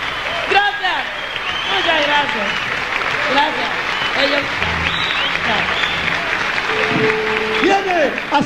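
Concert audience applause at a 1980 salsa show in Caracas, with a large crowd clapping and cheering loudly throughout and a voice announcing over it, plus brief musical tones in the mix.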